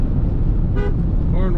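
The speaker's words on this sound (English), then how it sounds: "Horn works." Horn of a 1994 Ford F-150 XLT 4x4 truck, two short honks close by, the second slightly longer, under a loud idling engine and steady background rumble.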